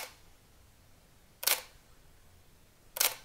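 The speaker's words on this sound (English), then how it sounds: "here's how the default electronic first curtain mode sounds" Canon EOS R6 camera shutter firing in electronic first curtain mode, two crisp, quiet clicks about one and a half seconds apart against near silence.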